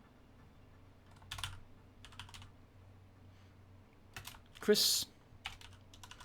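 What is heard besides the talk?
typing on a computer keyboard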